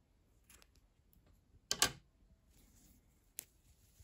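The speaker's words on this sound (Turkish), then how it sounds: "İpliği ben burada kesiyorum" Scissors snipping through yarn at the end of a crochet row, one sharp close cut followed by a smaller click, set against quiet room background.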